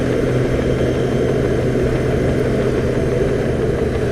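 Goldwing and other motorcycles riding by a lake, engines droning loud and steady throughout, a continuous close rumble of bikes being gunned with no clear rises or breaks.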